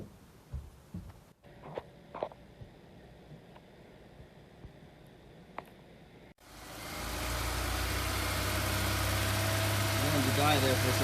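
A restored Honda S2000 engine starts after a stretch of quiet clicks and handling noises, then settles into a loud, steady, close running rumble; speech is heard as well.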